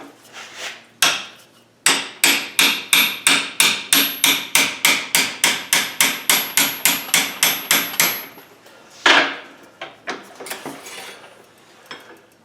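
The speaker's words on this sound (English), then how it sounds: "Then I want to hit that down." Hammer blows on hot metal while forging a wreath hook: a long, steady run of about twenty loud, ringing strikes close by, then a pause and a few scattered lighter taps.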